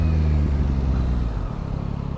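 A Yamaha MT09 motorcycle turns around on smooth tarmac. Its close engine drones, then eases off into a lower, pulsing idle-like rumble over a couple of seconds.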